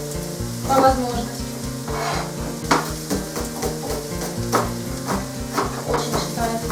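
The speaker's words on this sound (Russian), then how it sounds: "Пока жарится наше мясо" Rabbit meat fries in a pan with a loud, steady sizzle, punctuated by repeated clicks and taps of a utensil knocking and stirring against the pan, close up and without talk.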